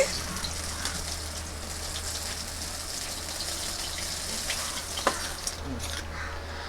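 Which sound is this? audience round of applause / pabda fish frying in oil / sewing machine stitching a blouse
pabda fish frying in oil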